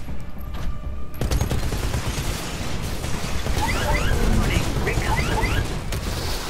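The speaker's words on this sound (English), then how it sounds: "Go, go, chain gun." A Titan's chain gun firing in Titanfall, a sustained rapid mechanical barrage with booms and debris, loud and continuous, with someone talking over the action.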